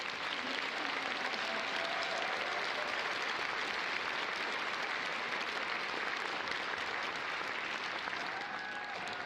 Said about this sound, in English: Let's give these scholars one more round of applause for this.